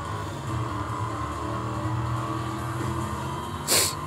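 Steady, fairly loud car engine drone from Need for Speed Most Wanted, the mobile racing game, as a car drives and drifts, with a sharp burst of hiss or screech near the end.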